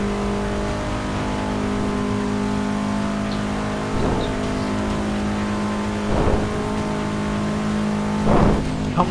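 A race car in Forza Motorsport 6 screams along a speedway at around 150 mph, its steady high-pitched engine drone holding throughout, with a few louder surges as it passes.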